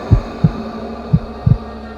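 Slow heartbeat sound effect in a horror narration about a haunted abandoned cabin: four deep, muffled thumps, the last a quick double beat, over a low steady hum with no voice.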